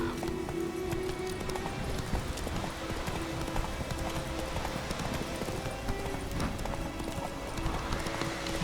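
Roach, the horse in The Witcher video game, gallops in steady rhythmic clip-clop hoofbeats that run continuously for several seconds and sit close and clear, with no speech over them.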